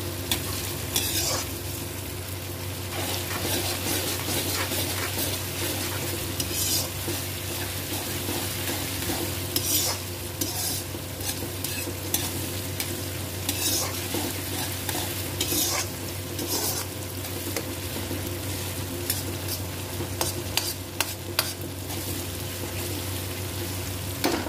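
Tomatoes roasting and sizzling in a pan for a cabbage and pea curry, a continuous close frying hiss broken by repeated scraping stirs of a spoon against the pan, with no voices.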